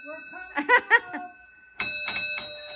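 An 84-year-old doorbell in a historic house in Oconto, Wisconsin rings with a few bright, metallic dings, pauses, then rings again louder and sharper with a lingering chime.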